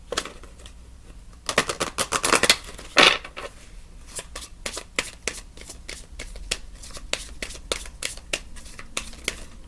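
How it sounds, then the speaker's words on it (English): Tarot cards being shuffled by hand at close range, a steady run of crisp riffling and slapping with a louder flurry early on, then quick repeated card snaps alone. "I'm surprised they said shuffle again, but we're going to do it."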